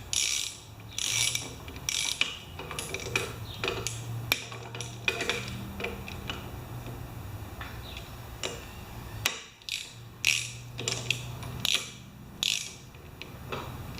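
Ratchet snugging bolts on a Honda compressor, heard as repeated close clicking pawl bursts and mechanical clatter spread across the clip, with short pauses between bursts.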